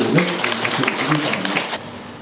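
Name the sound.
audience applause at a gallery opening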